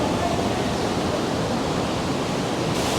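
A waterfall pours inside a mountain near Lauterbrunnen, Switzerland, a loud, unbroken rushing roar that fills the space and echoes continuously.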